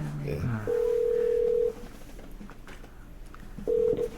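A phone call connecting on a telephone line: a steady ringback tone sounds for about a second, pauses during a quiet stretch, then starts again near the end, with a brief murmur of voice at the start.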